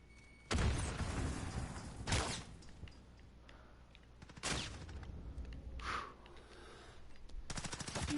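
Bursts of automatic and single gunfire in a Call of Duty: Modern Warfare match, with several loud volleys separated by quieter gaps of distant shots and ambient game noise, and no talking.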